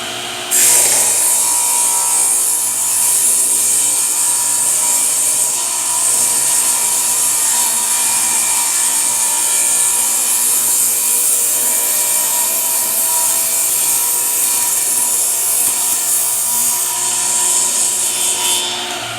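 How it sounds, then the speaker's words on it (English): A table saw on a straight edge jig cutting through wood, a loud continuous whining buzz close by that holds steady for the whole pass and then begins to wind down at the end. "So as I cut through there, I could tell that it was cutting wood the whole way through"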